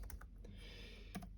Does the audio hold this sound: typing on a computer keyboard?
yes